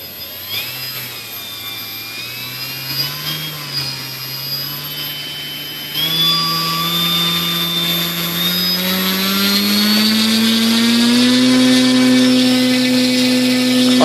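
The motor of an ASH26 2.6m composite RC sailplane runs up at throttle as a steady, buzzing whine that climbs in pitch and grows louder partway through. It sounds close, with no talking.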